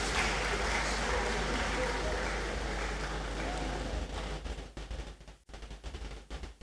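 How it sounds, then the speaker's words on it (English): An audience at a university academic awards ceremony gives a dense, loud round of applause for a prize winner. The clapping holds steady, then thins into scattered, fading claps toward the end. "A louder round of applause."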